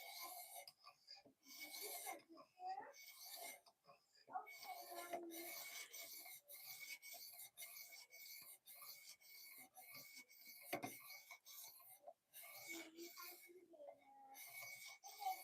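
Knife blade drawn repeatedly across a CBN sharpening stone, giving a steady rasping, filing scrape in close strokes with brief pauses between passes.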